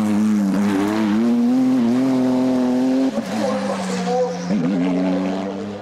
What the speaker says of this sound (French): déric Neff prend la 3e position du GTTS 4 et termine 4e du général sur sa Porsche 997 GT2R.